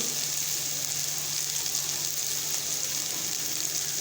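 Onion chutney roasting in a pan, giving off a steady, faint crackling sizzle heard close up and alone, with no voices and no pause.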